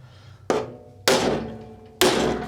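A two-pound hammer strikes a socket set on a shouldered nut on a Craftsman LT1000 mower. Three loud metallic blows land about half a second apart, each one ringing briefly and decaying.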